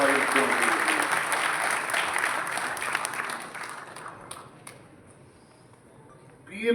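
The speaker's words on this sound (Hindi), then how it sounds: "एक बार जोरदार ताली हमारे मुख्यमंत्री" Loud applause for a chief minister at a Delhi health-scheme event, dense clapping that fades away after about four seconds, leaving a quiet room before a brief burst at the end.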